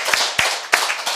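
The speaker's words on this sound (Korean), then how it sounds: "우리 하나님께 감사의 박수 올리겠습니다" A church congregation clapping in thanks to God during a Sunday service, a few distinct hand claps in a quick, uneven rhythm, close and moderately loud.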